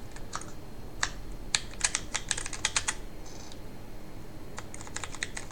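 Typing on an Ultimate Hacking Keyboard: clusters of sharp, close key clicks in uneven bursts with short pauses, over a quiet room background and with no voices.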